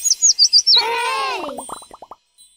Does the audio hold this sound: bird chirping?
yes